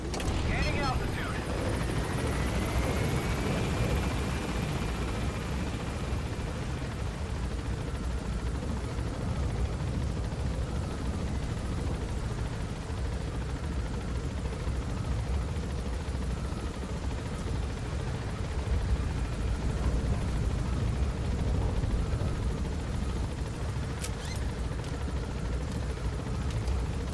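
A helicopter in Metal Gear Solid V, a steady broad rotor and engine roar holding at an even level for the whole stretch, loud and close, with no voices over it.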